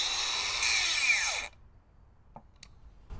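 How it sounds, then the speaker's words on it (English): A Makita cordless brushless angle grinder gives a high, loud whine for over a second, then its electric brake cuts it off abruptly into near silence, followed by a couple of faint clicks. "So I chose this particular grinder because it has an electric brake."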